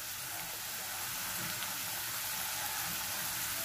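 Potatoes frying in hot oil in a home kitchen give off a steady, soft crackling sizzle that holds evenly throughout, close by, with no voices.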